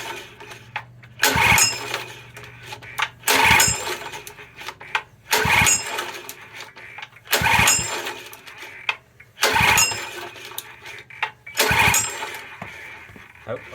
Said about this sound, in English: I'm going to switch the petrol on, choke on, and see if she'll go